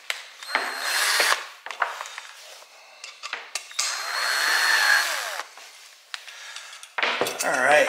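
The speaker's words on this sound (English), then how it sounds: "I'll run my screws in." A power drill drives screws into a homemade solar air heater in several close whirring bursts of different lengths, with short pauses and some metallic handling noise between them. A voice speaks briefly.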